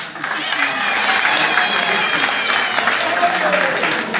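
Applause rises for a guest during an official UNESCO visit to a palace and ramparts in the Medina of Ntsoudjini, a sustained crowd wash of clapping, loud and even, with voices blended in.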